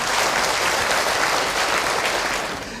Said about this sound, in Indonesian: tepuk tangan untuk Ahilman